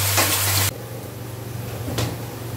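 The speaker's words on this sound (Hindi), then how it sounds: "ये हमारा प्याज जो है इस तरफ से ये ब्राउन हो जाए" Onions sizzling and frying in oil in a kadai, a steady bright hiss that cuts off partway and returns softer with a brief stirring scrape.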